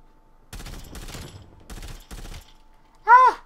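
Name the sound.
M16 burst rifle gunfire in video game Call of Duty Cold War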